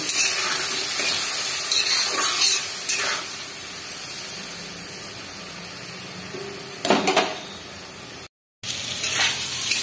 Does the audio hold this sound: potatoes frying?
yes